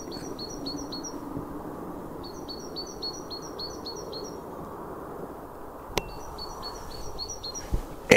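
A robin chirps in short repeated bursts of bright tweets while feeding on scattered bird seed outdoors in Scotland, the calls coming in three separate runs over a low steady background hum, with a couple of sharp knocks near the end.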